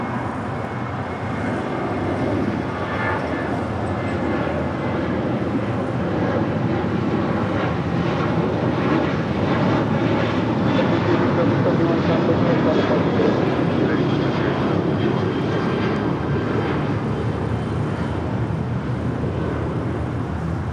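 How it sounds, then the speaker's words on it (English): An American Airlines jet departing LAX produces a continuous, loud roar that holds steady throughout, heard from nearby with a faint voice in the background. "Next departure, American Airlines Flight 1315 heading to Atlanta"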